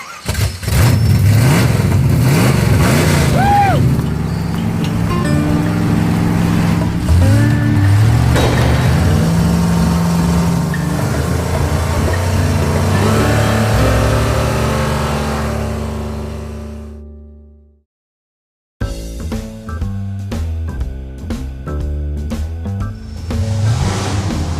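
An old drag race car's engine turns over, catches and revs hard and loud. Rough, rising throttle blips fill most of the stretch before it cuts to silence, then a lumpy, loping idle follows close by.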